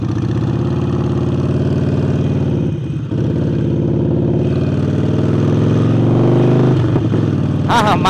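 A Harley-Davidson Sportster 48 motorcycle with a newly fitted air intake idles loudly and steadily at close range in heavy traffic, its deep lumpy pulse continuous, swelling briefly near the end.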